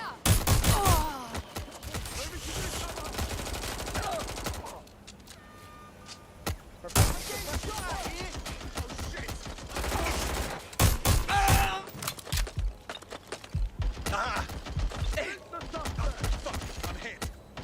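Bursts of gunfire in the video game Watch Dogs Legion, several loud volleys of rapid shots separated by quieter pauses, mixed with game effects and occasional voices.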